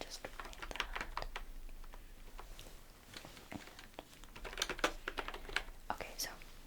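Fingers typing on a computer keyboard in a quiet room, a steady stream of close, soft key clicks with occasional faint whispering over them.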